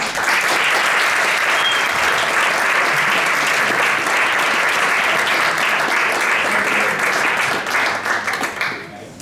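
Sustained, loud audience applause for a science communication competition candidate at a FameLab semi-final, dense and even clapping throughout before fading at the end.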